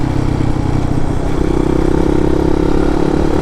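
A motorcycle engine is revved hard at high RPM, a loud, close, sustained buzzing drone with steady mechanical rumble and no speech.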